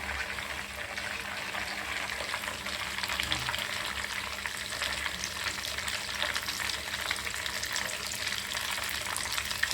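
Drumstick leaves frying in a hot pan, giving a steady, close crackling sizzle with a faint stirring rattle that runs unbroken throughout.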